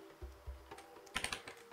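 Brief bursts of computer keyboard typing, a few soft keystrokes followed by a quicker cluster of clicks, close and quiet with no talking, while a command is entered in a Linux terminal.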